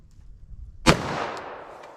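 A single .45 ACP Hornady Custom round fired into ballistic gel gives one sharp, loud crack, followed by a long decaying echo that fades over the next second.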